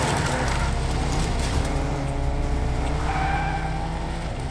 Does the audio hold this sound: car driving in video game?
yes